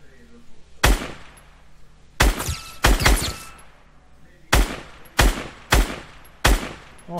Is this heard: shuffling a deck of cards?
no